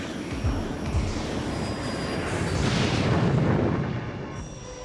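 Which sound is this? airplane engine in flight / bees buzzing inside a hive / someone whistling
airplane engine in flight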